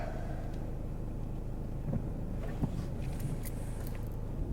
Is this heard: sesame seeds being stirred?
no